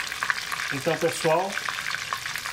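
A breaded steak frying in hot oil for filé à parmegiana, a steady close sizzle and crackle running throughout while someone speaks briefly over it.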